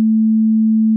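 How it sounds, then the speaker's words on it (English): A pure, steady sine tone hums at a low-mid pitch for about a second, smooth and constant with no variation. "the sine wave,"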